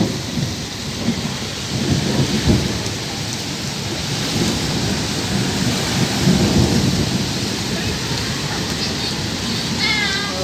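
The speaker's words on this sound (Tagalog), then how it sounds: "Lakas ng kulog tiglat sa langit." Loud rolling thunder rumbles over steady heavy rain, swelling twice, with a cat meowing faintly near the end.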